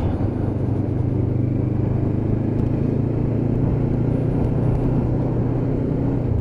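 Lexmoto LXR 380cc motorcycle cruising steadily through town at 30 mph in fifth gear around 3000 RPM, a continuous low engine drone with rumbling road and wind noise, no voices.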